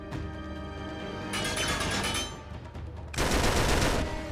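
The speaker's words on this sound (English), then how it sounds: "Who's shooting at me?" Sustained gunfire in Uncharted 3: Drake's Deception, dense rapid bursts of automatic fire with a loud sustained volley near the start and a second heavy burst later, loud and close with no talking.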